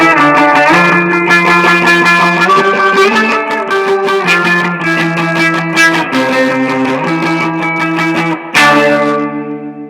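Distorted electric guitar plays the outro of a song, with ringing chords that shift every second or two under heavy effects and reverb, ending on a final accented strum.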